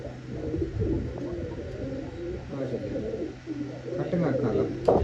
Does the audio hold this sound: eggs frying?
no